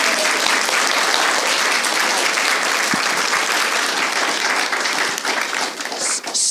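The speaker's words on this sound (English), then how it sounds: "So I think we should all give her a round of applause." An audience gives a woman a sustained round of applause, loud and dense clapping from many hands that continues steadily and fades slightly at the very end.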